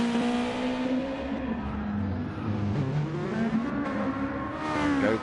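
Race car engines revving loudly in the pits of Circuit de Spa-Francorchamps in a racing video game, with continuous layered engine drone and shifting revs close by.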